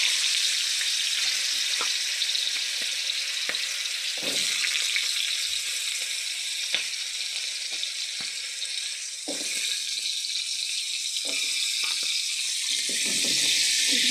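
Potato pieces frying in hot oil in a home kitchen after eggplant, a steady dense sizzle running throughout with occasional stirring clicks and scrapes, close and fairly loud, no talk.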